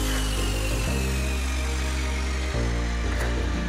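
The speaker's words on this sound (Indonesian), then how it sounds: "Langsung kita bor" A power drill bores into a roof truss crossbar during truss assembly. The motor runs steady and loud close by, with its pitch dropping briefly twice as the bit bites.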